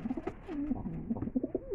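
A pair of pigeons, a male and a female kept together for breeding, coo close by in soft, repeated throaty rolls with a gently pulsing rhythm and no talk over them.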